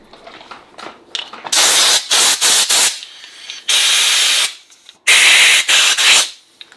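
Compressed air blowing hard through the passages of a Solex moped fuel pump, several loud bursts of hissing air of varying length with short pauses between, close up and with no talk.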